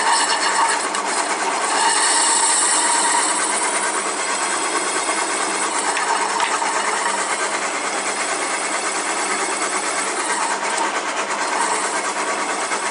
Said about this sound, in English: Here we go with the step drill.